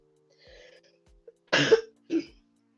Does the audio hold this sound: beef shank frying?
no